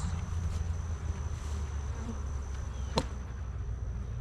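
Honey bees hum steadily around an opened hive during an October inspection, a dense low buzz that stays close and constant, with a brief sharp tap partway through.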